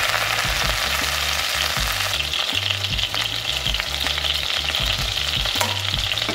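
A bluefin tuna eyeball fries with minced ginger in sesame oil in a pan, giving a loud, steady sizzle with intermittent stirring scrapes throughout and no voices.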